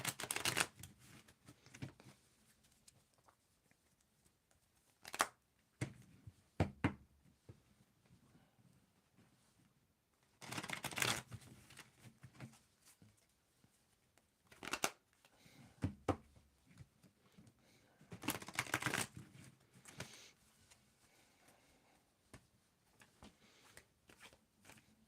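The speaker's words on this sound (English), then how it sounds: "And let me do some shuffling to mix it up." Tarot cards being shuffled in several separate bursts of crisp riffling and flapping, each lasting a second or two, with quiet pauses in between and nobody speaking.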